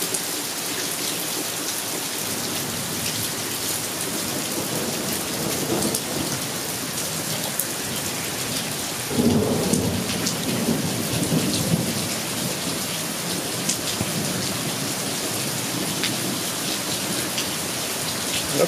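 Heavy rain pours steadily and loudly close by, with a deep rumble of thunder rolling in midway and lingering under the downpour.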